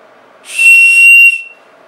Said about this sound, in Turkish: bir uzun mesafe düdüğü var çantanın içinde. Bakalım bu nasıl ses veriyor.